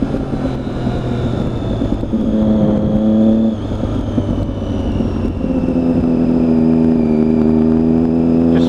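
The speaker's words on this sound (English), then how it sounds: "Rev bomb. Exceptionally loud." A black and gold Triumph Daytona 675cc motorcycle engine revs loud and close, with a steady, raspy exhaust note that rises and falls in pitch through repeated revs.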